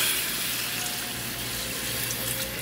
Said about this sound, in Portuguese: Vou acrescentando água